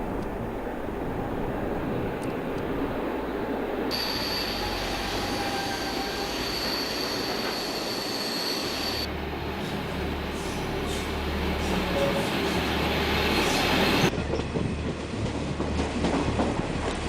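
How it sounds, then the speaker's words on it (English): A train rolls along a railway built for carrying iron ore from the Kiruna mines, with continuous rumbling wheels, rhythmic clatter and high squealing from the rails, loud and close for the whole stretch. "The train passes through"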